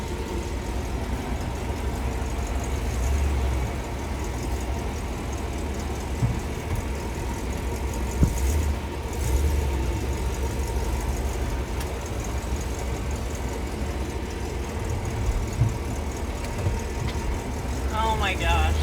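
A Chevy C20 truck with no power steering and a manual shift runs steadily through a U-turn, a low engine drone near and constant under cab noise, with a brief voice near the end.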